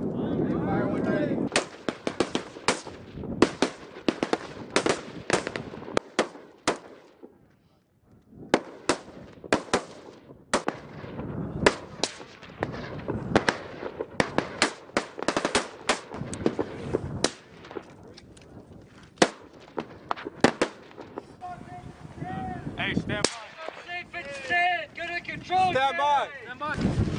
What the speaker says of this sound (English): Shooters, fire one ready!